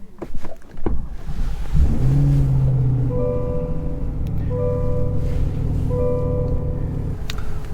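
A 2022 Chevrolet Corvette's engine fires up by push button start, a sharp starter crank giving way to a loud rumbling idle with a steady low drone, heard close and alone in a December setting.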